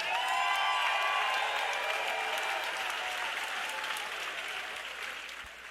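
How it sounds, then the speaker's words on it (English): An arena crowd claps loudly after an MMA fight, with some cheering at first, the applause gradually fading. "How about a round of applause for both of these athletes?"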